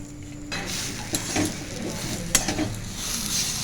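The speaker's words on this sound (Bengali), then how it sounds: "দিয়ে দিচ্ছি আলু মেখে নিয়ে মেখে নিয়েছিলাম সেই আলুটা আমি দিয়ে দিচ্ছি" Mashed potato added to spices in a frying pan and worked in for veg Moglai paratha: soft sizzling under clattering spoon strokes and scrapes against the pan, close and fairly loud.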